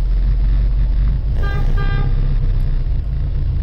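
Car horns honk briefly in a busy street over steady engine and traffic rumble, with a short double toot standing out near the middle.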